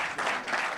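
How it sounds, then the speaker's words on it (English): An audience at a stage show applauds in a short, dense wash of clapping with no gaps. "keep it clapping, keep it clapping"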